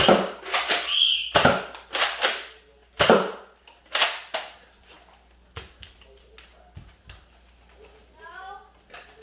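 Nerf blasters going off during a box fort Nerf battle, a burst of sharp popping shots in the first few seconds and a few more scattered later, mixed with children shouting nearby.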